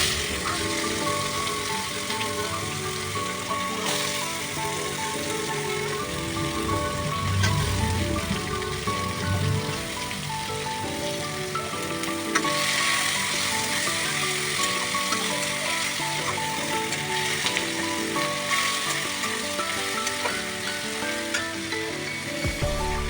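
Onions frying in a pan for a mashkalai dal give a steady, dense sizzle that hisses continuously at an even, fairly loud level with no talking over it.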